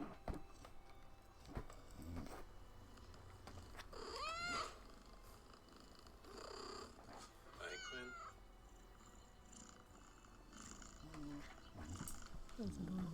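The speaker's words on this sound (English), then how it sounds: "I love whistly purrs" A cat purring close by, with a couple of breathy, whistly rising squeaks mixed into the steady low rumble, alongside faint background noise.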